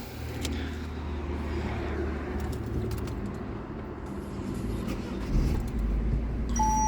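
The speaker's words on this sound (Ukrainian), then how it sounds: "Двигун шепче." A Citroen C diesel (HDi) car engine idles with a low, steady rumble, quiet and even, with a few faint clicks and small knocks on top.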